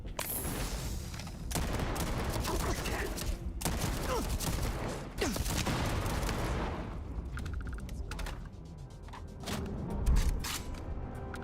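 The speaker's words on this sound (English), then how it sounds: "You're shooting me!" Dense video-game gunfire in a space setting on lonely planets, with rapid bursts and booms crackling almost nonstop at close range, shots aimed at the player, and no talk heard.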